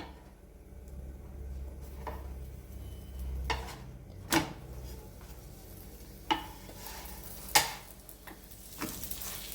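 Sweet rotti cooking in a pan, flipped from side to side, gives a soft steady frying hiss broken by a few sharp clinks and scrapes of a utensil against the pan.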